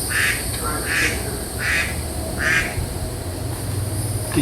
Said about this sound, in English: Did you hear the duck?